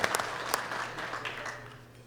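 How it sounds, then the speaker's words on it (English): Audience applause at a powerlifting world championship in the men's 59 and 66 kg classes, a short burst of moderate clapping in a large hall that fades over two seconds. "Give them a big round of applause."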